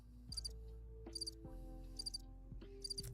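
Crickets chirp in four evenly spaced high bursts over a low steady hum, with no voices.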